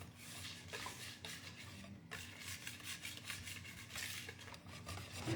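Chestnut flour batter being mixed with water for castagnaccio: a steady, close scraping and stirring rub against a bowl, continuous with small clinks throughout.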